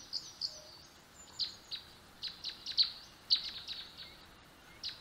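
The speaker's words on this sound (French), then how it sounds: "Maintenant qu'on ne fait plus de bruit, on peut entendre les oiseaux." Small birds chirp and tweet in short bright bursts, several calls scattered irregularly, moderately close against a quiet background.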